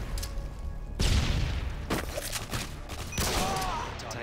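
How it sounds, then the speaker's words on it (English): A stun grenade goes off in a tactical shooter video game with a sharp boom and a crackling burst, alongside repeated gunfire and game sounds, loud and close. "Tossing stun grenade."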